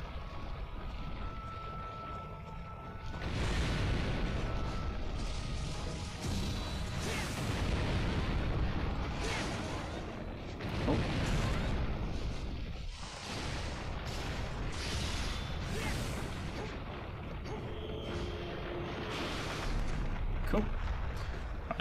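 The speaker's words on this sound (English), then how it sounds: "Come on, buddy, shoot him with the cannons." Cannons fire in Monster Hunter XX, throwing out a series of deep booms and rumbling blasts over continuous battle noise, some heavy and sustained, others sharp and separate.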